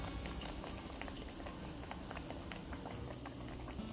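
Steady, dense crackling and bubbling of pork tenderloin cutlets deep frying in hot oil, continuous and close, with no voices.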